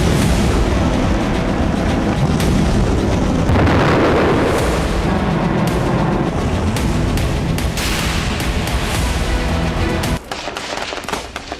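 Missile and artillery explosion effects roar loudly and continuously, with dense overlapping blasts and rumbling booms that barely let up before a sharper crackling tail near the end.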